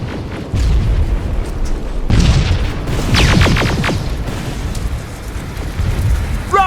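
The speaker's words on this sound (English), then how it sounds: "Rockets! They're headed this way!" Rocket explosions in the video game Terminator Resistance: a loud, sustained rumbling barrage of booms with a sharper blast near the middle, continuing to the end.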